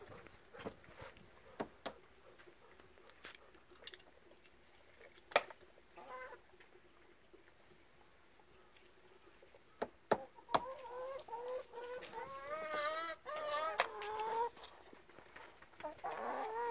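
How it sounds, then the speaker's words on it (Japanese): Chickens cluck in short bursts from close by on a farm where a golden retriever is being given fresh eggs, faint and sparse at first and then growing busier and more continuous toward the end. "鶏さんも来たよ。"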